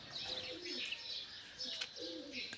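Pigeons on a rooftop during a pigeon-flying contest coo and chirp in repeated bursts, close and fairly clear, with no talking.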